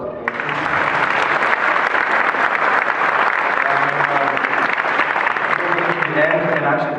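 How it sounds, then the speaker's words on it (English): Graduating class in Sweden applauding after the final graduation speech, a steady, dense burst of clapping that fills the room at a constant loud level for several seconds, with voices audible underneath. "Applause for that."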